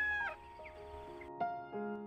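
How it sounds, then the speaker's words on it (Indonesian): A rooster clucks and calls in short pitched bursts, fairly quiet and separated by gaps. "mendengar suara ayam jago berkokok yang menunjukkan suasana"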